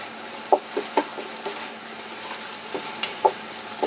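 Finely ground garlic, about a spoonful, frying in a pan for a buttermilk gunda vegetable dish, giving a steady close sizzle with sharp crackles and pops scattered through it.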